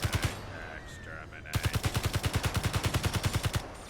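Automatic gunfire from the video game Space Engineers, a steady rapid burst of evenly spaced shots that starts after a brief earlier volley, loud and close, with faint talk underneath in the quieter stretch.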